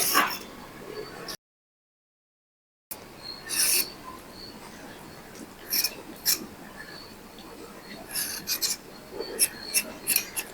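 Soaked mahali root is scraped with a peeler in short rasping strokes, near and fairly faint, with pauses between bursts.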